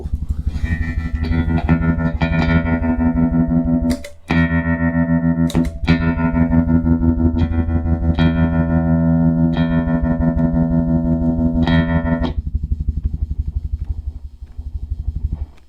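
An electric guitar plays through an amp with reverb and tremolo, giving loud, sustained distorted chords that ring out with brief gaps between strums.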